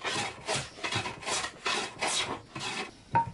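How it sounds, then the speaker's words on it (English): A hand plane takes repeated strokes along a thin wooden part held to a workbench with double-stick tape, about seven close, even rasping passes in a steady rhythm, ending with a light knock. "Planing thin parts like this is easiest with double stick tape on my bench"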